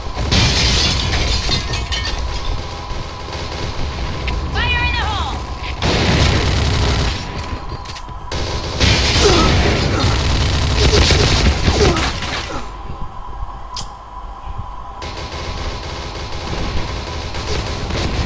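Heavy, rapid bursts of automatic gunfire and booms in the first-person shooter Point Blank, loud and dense with breaking-glass crashes between volleys, while a voice talks excitedly over the game action.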